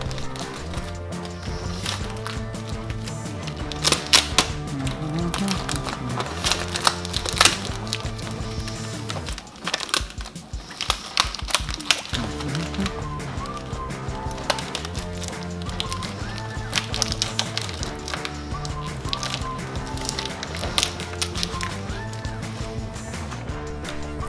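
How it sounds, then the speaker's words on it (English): Clamping a screen onto a screen printing press and taping it down, with repeated close knocks, clicks and tape rips and scrapes in an irregular rhythm over background music. "The first thing you want to do is obviously clamp down your screen and then tape it down."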